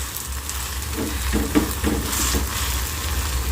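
Vegetable-topped uttapam sizzling on a clay tawa while being flipped and pressed down, a low steady fry with a few soft thumps and scrapes from the spatula, close by, no talking.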